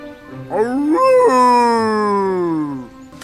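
A single long, rising and falling howl, close and loud, trailing off at the end; a voice imitating a wolf in the animated film Alpha and Omega 2.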